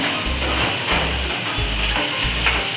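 Pumpkin bhaji sizzles in a hot pan while being stirred, a steady close hiss of frying broken by several low, rhythmic scraping strokes of the spoon.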